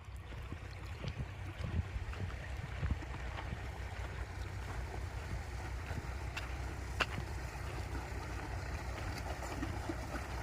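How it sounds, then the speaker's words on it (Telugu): Steady, heavy rush of water gushing forcefully from large pipes near the Amaravati High Court, with a constant low roar, continuous and fairly near, no voices. "ఆ పెద్ద పైపుల నుంచి అయితే చాలా ఫోర్స్గా అయితే వస్తుంది"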